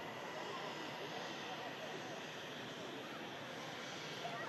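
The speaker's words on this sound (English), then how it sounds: "EasyJet on short finals. This aircraft coming in from Geneva lever, A320" EasyJet Airbus A320 from Geneva on short final approach into an airport, a faint, steady, distant jet roar hanging evenly over the whole stretch.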